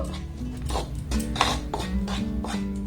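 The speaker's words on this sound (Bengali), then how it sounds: "এবার সমস্ত শুকনো উপকরণ একটু ভালোভাবে মেখে নেব।" A spoon stirs dry ingredients with Maggi masala in a bowl, producing steady scraping and clinking of metal against the dish throughout, close and continuous.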